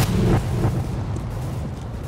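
Gunfire in Counter-Strike: Global Offensive deathmatch with knife and AWP sniper rifle, heard as a loud booming shot near the start followed by a dense, steady rumble of game noise that stays loud to the end.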